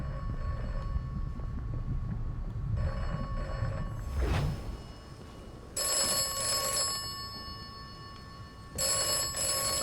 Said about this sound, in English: I'm not gonna answer that phone yet because I'm gonna leave this area.